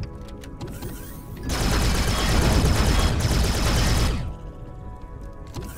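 A heavy burst of automatic gunfire from the sci-fi game Empyrion Galactic Survival erupts loudly after a quieter start, hammers for a few seconds, then drops back to the softer background.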